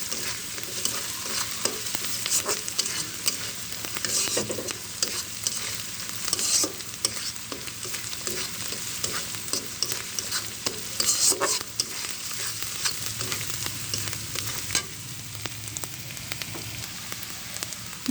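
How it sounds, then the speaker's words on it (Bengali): Onion and garlic frying in a pan for a spicy tilapia curry, a continuous close sizzle broken by repeated scraping and clinking as the mixture is stirred, no talk. "মশলাটা কষে দেখুন, পেঁয়াজ রসুনটা কষানো হয়ে গেছে"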